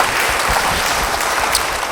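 A church congregation breaks into loud, steady applause during a sermon, a dense wash of many hands clapping close and continuous with no speech over it.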